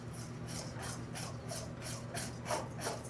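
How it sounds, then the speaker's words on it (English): Whisking milk and cream for clafoutis batter, quick rhythmic scratchy strokes of a whisk in a bowl, about two per second, close and faint. "You need to whisk faster."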